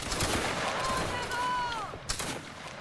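Musket volleys in a Napoleonic line-battle video game: a few sharp, fairly faint cracks and bursts against a busy battle background, with a whistling tone in the middle and a voice talking over it.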